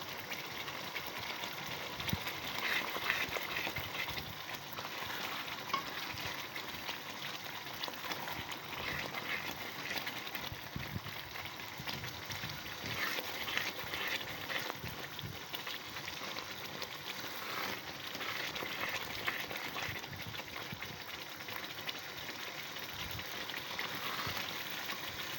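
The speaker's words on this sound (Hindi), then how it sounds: "इसमें काफ़ी तेज़ जोश आते हैं, थोड़ा थोड़ा उछल के बाहर भी आ जाता है।" Sooji halwa bubbling vigorously and spattering as it cooks in a pan, a constant dense crackle of popping bubbles, moderately faint and unbroken throughout, with no speech.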